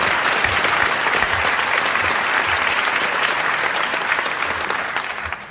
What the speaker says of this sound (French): je vais vous demander d'applaudir comme elle le mérite Madame Bouchet de Saint-Julien en Genevois